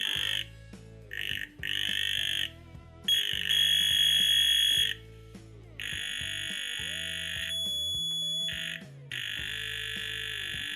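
A Globe JQ-9948A voltage tester beeps in loud electronic bursts near a live wire, its pitch stepping up and down between pauses, close to the microphone.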